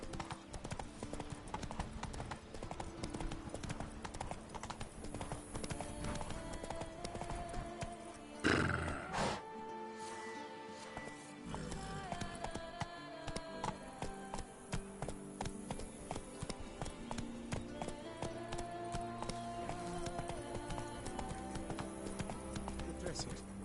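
Hooves of Roach, the horse in The Witcher 3, clip-clop in a steady rhythm throughout, with a brief whinny partway through and a voice talking over the ride.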